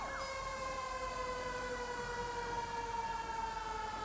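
A steady wailing emergency vehicle siren in a video game rises and falls continuously, clean and synthetic, with a low engine hum underneath.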